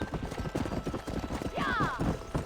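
Horse hooves clop in a quick galloping rhythm while riding in the video game Red Dead Redemption, mixed with game sounds and a brief whinny-like tone partway through.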